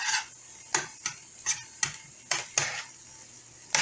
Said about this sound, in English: You put some green peppers over in here. I'm gonna let that saute down.